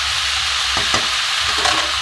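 Vegetables sizzle loudly and steadily in a hot pan, with a couple of brief stirring scrapes.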